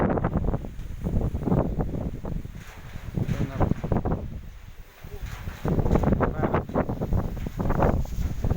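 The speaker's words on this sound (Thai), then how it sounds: "ลมแห้งครับ" Wind gusting through an early-morning storm, rushing and buffeting the microphone in uneven surges, close and fairly loud, with a voice heard faintly beneath.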